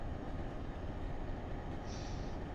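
A passenger train runs in Train Simulator Classic on the Boston Albany line, a steady loud rumble of wheels and engine with continuous rolling noise and a faint brief squeal near the end, no talk.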